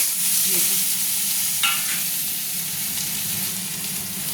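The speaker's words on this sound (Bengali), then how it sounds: "তো এবার আমি আলুটা ভাজার জন্য কড়াইতে ওই তেলেই দিয়ে দিয়েছি।" Potatoes fry in oil already used for fish in a wok, giving a loud, steady, close sizzling hiss with a brief stirring clatter partway through.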